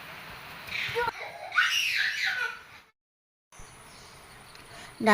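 Monkeys shriek in alarm from high treetops at a leopard in a forest, a loud chorus of harsh, high screams for nearly two seconds, then a brief silence and renewed noise with insect-like buzzing.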